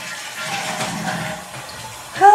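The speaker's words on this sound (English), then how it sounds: "They're so proud of themselves when they learn how to flush the toilet." A child flushes a home toilet, producing a steady rushing swirl of water that lasts about two seconds before a sharper sound at the end.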